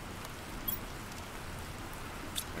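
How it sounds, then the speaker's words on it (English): Steady rain falls in the video game Planet Crafter with a soft, even hiss, with a couple of faint individual drops ticking through; no voices. "It's raining pretty good."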